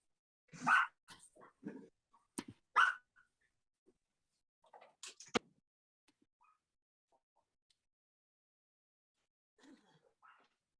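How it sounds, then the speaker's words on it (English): Puppies bark in short, sharp bursts, with a cluster of yips early on, a few more in the middle and a last brief flurry near the end, separated by quiet gaps. "I hear your puppies."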